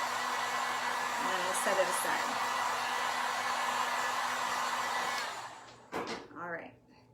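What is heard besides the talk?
heat gun blowing on painted thermos box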